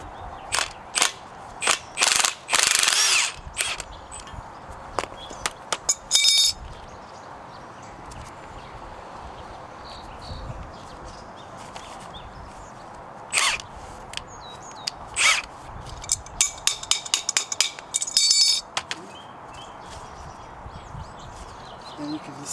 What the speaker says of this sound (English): Crescent wrench on.